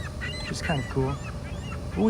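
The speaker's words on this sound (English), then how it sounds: "you can hear the seagulls in the background." Gulls call in the background by a lake, giving a few honking, squawking cries at moderate distance while someone talks over them.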